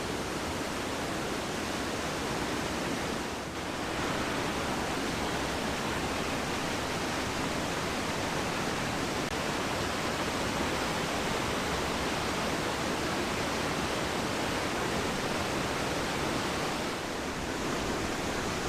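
River water rushes at Golitha Falls, St Cleer, Cornwall. It is a loud, unbroken roar close by that stays constant throughout.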